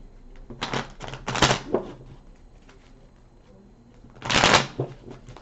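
A tarot card deck shuffled close by in a few quick riffling bursts, with quieter shuffling between and a loud final riffle.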